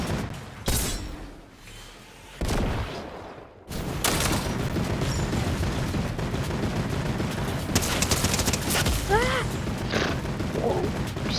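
Rapid bursts of water pistol fire in the video game Fortnite, loud and close, repeating in quick volleys over a busy game soundscape with faint voices now and then.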